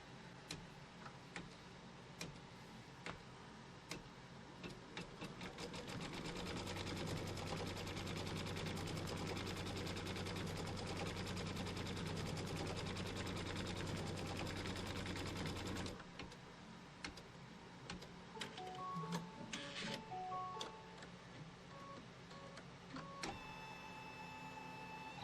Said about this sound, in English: So let's stitch out this placement line.